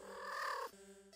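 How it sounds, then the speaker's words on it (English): A cat purring contentedly, a quiet, close, continuous rumbling purr heard alone over about a second. "The cat sounds happy."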